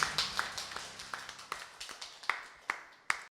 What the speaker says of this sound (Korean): 우리 다시 한번 하나님께 영광의 박수를 올려드리도록 하겠습니다